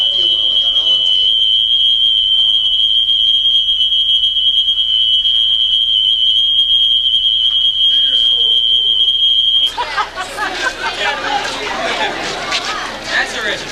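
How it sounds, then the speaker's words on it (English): A smoke alarm shrieks with a loud, steady high-pitched tone for about ten seconds in a campus building, then cuts out as a crowd of voices chatters loudly. "The Grim Reaper set off the alarm."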